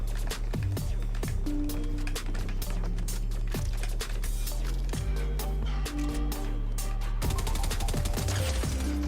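Rapid bursts of Combat SMG fire in an online shooter video game crackle in quick volleys over a steady low background drone, with no one talking.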